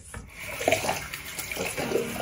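Tap water runs steadily into a sink during a morning face wash, a close, continuous splashing hiss with small rubbing and dripping sounds mixed in, no talking.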